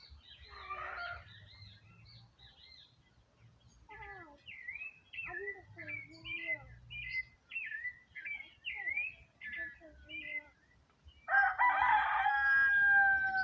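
A rooster crows loudly near the end after a long stretch of chirping, clucking fowl calls, with faint background rumble and no talk.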